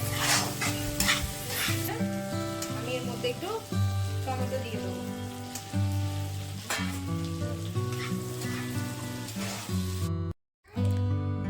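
Ginger-garlic paste, ground spices, green chilies and tomato fry in an oily pan with a continuous close sizzle and frequent stirring scrapes, ending with a brief dropout.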